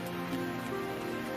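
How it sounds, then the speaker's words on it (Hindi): Heavy rain pours steadily on a surface for the whole moment, a dense continuous hiss with no distinct thunder clap standing out. "गड़गड़ाहट के साथ तेज बारिश होने लगी।"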